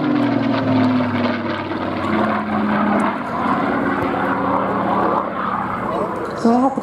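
A propeller-driven combat veteran warplane, flown with No. 16 Squadron from March 1945, drones loudly and steadily at the Midlands Air Fest 2023 air show, its engine tone holding throughout with a voice talking over it.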